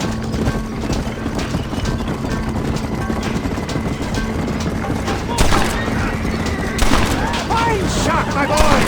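Gunshots ring out in the Wild West game Red Dead Redemption, a few sharp cracks close together, over steady horse hoof clip-clop and rolling wagon noise, with voices talking.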